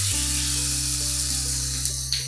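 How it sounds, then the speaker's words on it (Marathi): Masala sizzles and fries steadily on a hot tava while being sautéed for stuffed pomfret, a loud, continuous crackle with a steady low hum underneath and no talking. "तर मी हा मसाला असं तव्यावर टाकून घेते"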